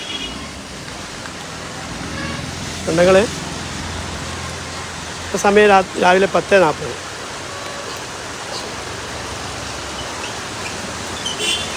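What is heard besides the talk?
daytime rain falling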